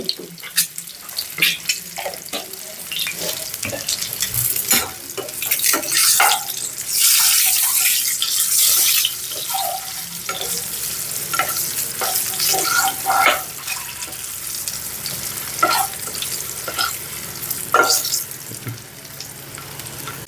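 Turmeric sizzles in hot oil while frying for an egg curry, a crackling hiss broken by sharp clicks and scrapes of stirring against the pan.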